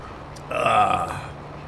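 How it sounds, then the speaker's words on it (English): A single close burp from someone who just ate a Costco hot dog, a throaty belch lasting under a second, heard alone against quiet room tone. "I had a Costco hot dog for lunch, and now I'm burping it up."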